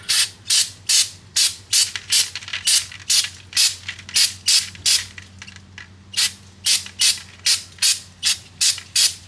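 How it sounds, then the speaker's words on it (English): Brake cleaner sprayed onto the front brake rotor of a 2007 Toyota Highlander Hybrid, coming as a steady series of sharp, close hissing bursts in an even rhythm with no talking. "I'll spray a little bit of brake cleaner on there."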